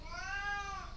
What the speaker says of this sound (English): apologies, that's my cat Moriarty shouting in the background